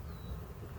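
Honey bees drone steadily at an open hive during a summer queen cell check, a continuous close buzzing hum with no voices over it.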